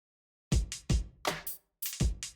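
A percussive rhythm sample in Sonic Moves Creator plays punchy drum-like hits with bright, crisp upper ticks in a repeating pattern, close and dry with no talking.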